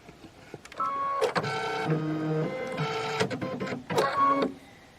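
Computerized embroidery machine stitching a blue thread number onto a fabric advent block, a steady mechanical whirring and rapid needle chatter in several bursts with short pauses between them.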